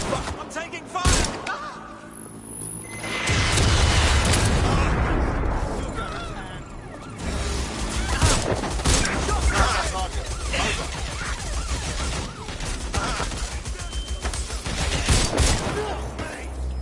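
Gunfire and booming blasts in a PS4 shooter game build into dense, loud volleys after a sharp early crack, with a voice shouting over the firefight.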